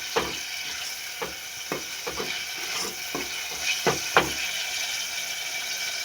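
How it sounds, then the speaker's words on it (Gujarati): Onion-tomato gravy stirred in hot oil for a chana curry, a steady sizzle broken by repeated sharp scraping strokes of a spoon against the pan, close and clear. "હવે એમાં આપણે ડુંગળી ટમેટાની ગ્રેવી નાખી દઈએ. આ રીતનું આપણે હલાવી લેવું."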